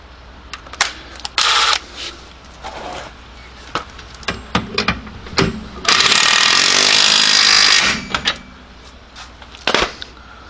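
Bottom bolt of a rear shock on a Hyundai Santa Fe being tightened with a power tool: short, loud bursts of buzzing rattle, one longer run of about two seconds, separated by clicks and pauses.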